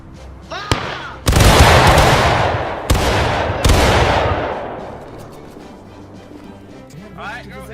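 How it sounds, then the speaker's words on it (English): A War of Rights infantry company fires a musket volley in a Civil War game battle: loud ragged bursts of shots crash together, then two more sharp reports follow, with long rolling echoes that die away, and voices shout commands around them. "Company, firing by company!"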